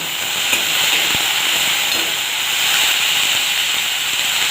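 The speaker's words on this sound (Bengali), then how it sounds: "সেটা তেলে দিয়ে একটু নেড়ে নেব।" Raw potato pieces hiss and sizzle in hot oil in a pan, a loud, steady frying noise that runs without a break, with an occasional faint scrape from stirring and no voices.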